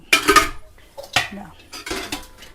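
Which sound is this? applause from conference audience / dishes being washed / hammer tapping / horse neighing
dishes being washed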